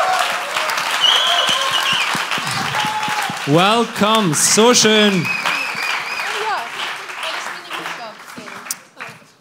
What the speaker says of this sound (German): einen riesen Applaus